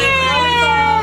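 An ambulance siren sounds as the vehicle pulls up at a children's hospital A&E department, a loud, steady wailing tone that fills the short moment on its own.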